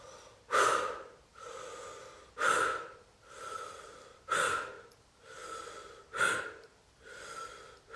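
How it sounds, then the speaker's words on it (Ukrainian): Repeated sharp, forceful breaths, each a quick loud inhale followed by a strong exhale, in a steady rhythm about every two seconds, close up. "Такий різкий потужний вдих, і такий самий різкий видих, ніби вистріл із гармати."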